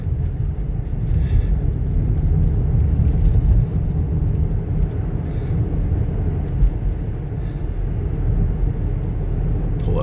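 A city snowplow truck passing on a winter street at dawn, a steady loud low engine rumble that holds for the whole stretch, with faint scattered clanks over it and no voices.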